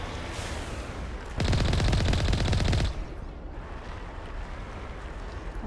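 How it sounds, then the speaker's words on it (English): Turret fire in Mass Effect Legendary Edition, a loud rapid stream of automatic shots lasting about a second and a half, set against a steady rushing game ambience that continues after the burst ends. "Lovely turret shooting experience."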